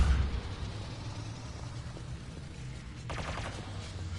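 A pistol fired in the Mass Effect 3 video game during a fight with Geth, giving sharp gunshots over a dense rumble of combat, with a quick burst of rapid fire near the end.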